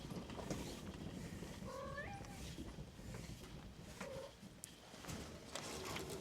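A cat meows a few times outdoors, short rising calls spaced apart over quiet background noise with faint footsteps and a person speaking softly.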